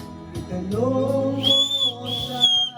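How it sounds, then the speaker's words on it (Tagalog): Someone whistles a short tune nearby, clear high notes sliding up and holding, over a faint low background. "Sipol pare, sipol."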